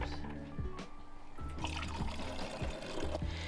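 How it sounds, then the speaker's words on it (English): Fresh apple juice pours through a sieve and muslin cloth, a steady close trickle and gurgle of liquid with small splashes. "Before we put it in the bottles, we are filtering it, and we've got a sieve and a muslin, and that's to catch any bits."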